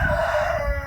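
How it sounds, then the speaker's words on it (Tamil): A native country chicken, the nattu kozhi breed, on a farm gives one short, close, loud call lasting under a second. "அதாவது பார்த்தா நாட்டுக்கோழி"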